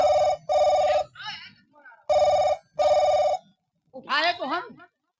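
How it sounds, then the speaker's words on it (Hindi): Landline telephone ringing in a Hindi comedy skit, with two pairs of loud, close electronic rings in a steady double-burst pattern, and voices speaking in the pauses between them. "फोन आ रहा है।"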